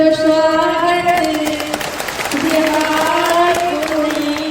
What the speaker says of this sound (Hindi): जोरदार ताली से कर दो स्वागत।